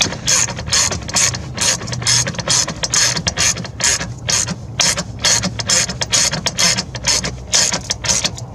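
A hand ratchet tightens bolts on a 2012 Dodge Grand Caravan during brake booster work, giving a close, loud run of rapid clicking strokes in steady bursts with brief pauses between them, no talking.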